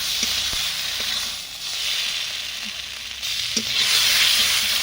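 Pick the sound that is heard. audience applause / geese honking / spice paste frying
spice paste frying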